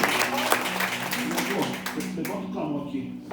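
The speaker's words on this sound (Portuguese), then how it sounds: "Você pode aplaudir o Senhor?" A church congregation applauds during a worship service, a dense, steady wash of clapping that runs throughout under a preacher's voice and then thins toward the end.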